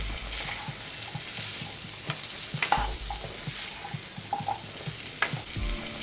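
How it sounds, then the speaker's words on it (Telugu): Sweet potato pieces stirred and fried in hot oil in a pan, a steady broadband sizzle broken by repeated scraping and clattering stirs, close and alone. "తర్వాత దీంట్లో మనం కట్ చేసి పెట్టుకున్న స్వీట్ పొటాటో ముక్కల్ని వేసుకొని కలుపుకోవాలి"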